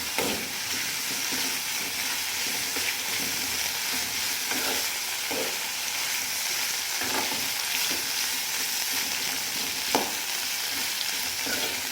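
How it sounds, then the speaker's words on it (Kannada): Cauliflower and potato fry steadily in a pan over medium flame, a continuous close sizzle with scattered scraping stir strokes throughout, no voices. "ಈ ಥರ ಫ್ರೈ ಮಾಡ್ಕೋಬೇಕು ಚೆನ್ನಾಗಿ,"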